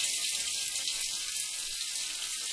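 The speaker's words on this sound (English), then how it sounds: "I got some hot running water here" Hot water runs steadily from a tap while a CM Punk wrestling figure head is being fixed, a continuous close hiss of flowing water with no talking.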